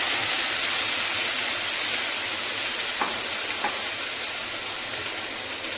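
Garlic, shallots and half-cooked green gram sizzling in a pan, a constant dense hiss held close and steady, with a couple of faint clicks near the middle and no speech.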